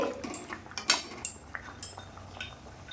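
A spoon stirs bitter gourd shukto curry in a pot, producing a series of light clinks and scrapes of metal on metal at a moderate, uneven pace, fairly quiet and close.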